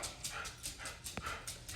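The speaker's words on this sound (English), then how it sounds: "Sorry for the dog barking." A dog yips and barks in quick repeated bursts, faint and a little distant, with no talking.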